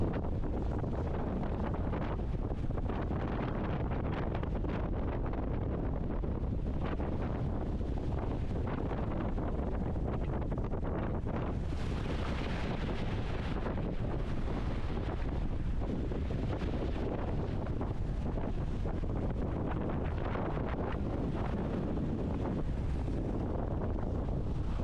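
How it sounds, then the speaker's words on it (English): Strong wind of about 40 knots roars continuously against the microphone while sailing, swelling into heavy gusts with a rushing, buffeting rumble and no voices. "There's another big gust."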